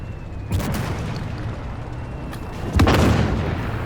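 A tank cannon fires in the video game Armored Warfare: two heavy booming shots a couple of seconds apart, loud and close over a steady engine rumble.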